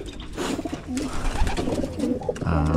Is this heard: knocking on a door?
no